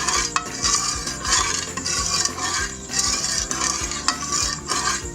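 Boiled watermelon rind cubes stirred into hot sugar syrup, heard as a steady, close scraping and sloshing of a spoon against the pot, with soft bubbling underneath and no talking.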